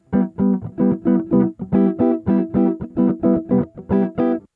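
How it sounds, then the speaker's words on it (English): A steady syncopated jazz samba groove of repeated chord stabs, bright and close, played alone with short gaps between clusters. "Now let's look at one more groove, the samba."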